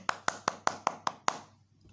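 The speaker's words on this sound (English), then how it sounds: "Clapping." Seven crisp, evenly spaced hand claps ring out close and loud in a quick, steady rhythm, then stop, leaving a brief quiet tail.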